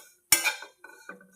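Close up, a metal spoon clinks sharply against a pan and then scrapes lightly a few times as grated coconut is stirred and roasted in ghee.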